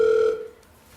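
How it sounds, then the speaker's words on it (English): A telephone gives one short electronic ring tone, loud and close, that stops abruptly and leaves near silence. "let's take a phone call."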